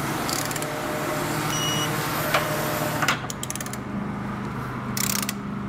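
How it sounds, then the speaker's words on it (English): A hand ratchet fitted with a 3/4 inch socket tightens the bolts of a Curt trailer hitch on a 2011 Chevrolet Express van, giving rapid mechanical clicking bursts with brief pauses between strokes, close and fairly loud. "We can then go back and tighten down our hardware with a 3/4 inch socket."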